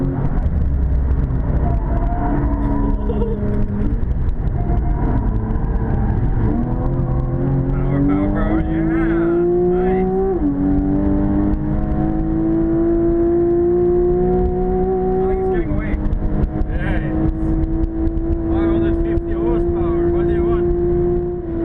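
A Porsche 911 engine drives fast on a track, loud and close, its revs climbing repeatedly through gears in rising pitch sweeps with brief shift drops, steady and continuous throughout.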